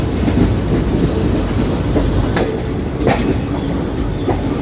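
A diesel-hauled express train runs on rails, with steady loud rumbling, a continuous rattle and brief clacks from the wheels, heard from on board with no voices.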